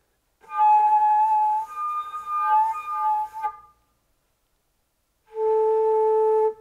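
A breathy, wavering daegeum (Korean bamboo flute) tone with uneven pitch from misdirected breath for a few seconds, then silence, followed by a short steady clean note.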